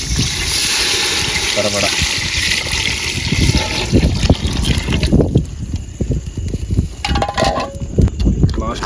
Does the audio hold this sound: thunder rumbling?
no